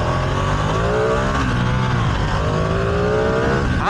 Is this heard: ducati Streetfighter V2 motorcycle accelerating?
yes